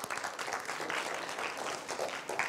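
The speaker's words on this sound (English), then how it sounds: "Let's have a big round of applause for him." An audience at an engineering event session gives a round of applause, a fairly faint, continuous patter of many hands clapping with no talk on top.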